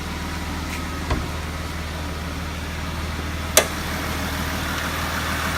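A 2015 Dodge Durango's 3.6-liter V6 idles with a low, steady hum close by, interrupted by two brief clicks or knocks.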